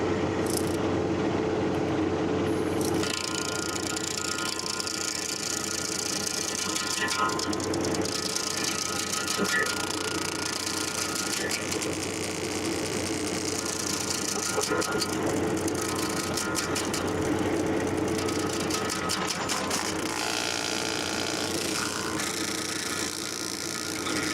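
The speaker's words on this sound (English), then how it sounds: "I forgot this grinder will cut in both directions." Tractor-mounted HSG24PRO stump grinder with cutting teeth on both sides, chewing into a stump with a steady engine drone and bursts of rapid chattering grinding, loud and close throughout.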